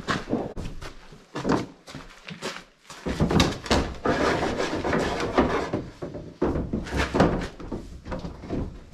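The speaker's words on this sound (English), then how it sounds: "I'll grab the door." A wooden barn door on a calf pen is worked open with repeated knocks, scrapes and rattling thunks, loud and close, while people talk briefly around it.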